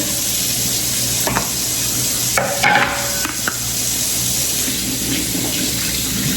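Tap water runs steadily and loudly into a kitchen sink as hands are washed before making a tomato and onion salad, with brief splashing and rubbing changes partway through.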